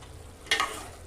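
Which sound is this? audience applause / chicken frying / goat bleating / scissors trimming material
chicken frying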